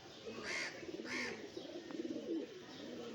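A pigeon coos in soft, repeated throaty rolls, close by, with faint background noise and brief hisses between calls.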